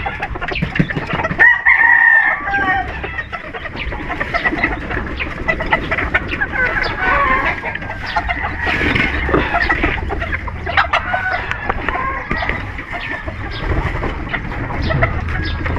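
Chickens and a rooster in a yard, with near, loud clucking and a crow running through a steady farmyard bustle.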